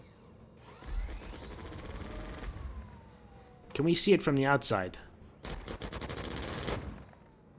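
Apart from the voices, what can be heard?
Aegis Redeemer ship guns firing in video game Star Citizen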